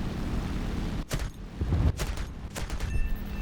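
Aircraft guns on an IL-2 1942 ground-attack plane firing in War Thunder, several short bursts of rapid rattling shots over a steady low engine drone, moderately loud with gaps between bursts.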